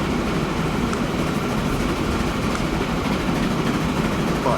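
A Russian train running along a coastline in the rail-management game Transport Fever 2 gives a steady, loud rolling rumble with faint rail clatter, continuous throughout with no talk.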